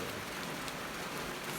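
Steady rain falls on surfaces outdoors, a dense, even hiss of droplets with no pauses over a short stretch, fairly soft and with no voices.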